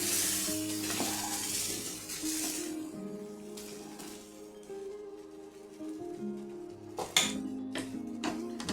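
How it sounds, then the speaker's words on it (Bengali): Boiled lentils bubble and sizzle faintly in a tempering pan for dal tarka, a soft continuous crackle broken by light spoon scrapes and clicks against the pan. "ডালটা ফুটছে"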